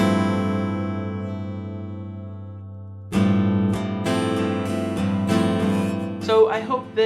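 A Fender American Acoustasonic Jazzmaster acoustic-electric guitar run through an external reverb impulse response: a sustained strummed chord rings out and fades, then a fresh series of strums and plucked notes follows, with a lush, close, reverberant tail.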